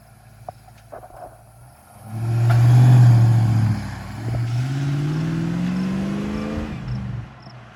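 A 1995 Land Rover Defender 90 revs up hard from a standstill into a loud, sustained acceleration with a deep, rumbling exhaust note, then settles into a steady, strong drone, at high altitude in Colorado.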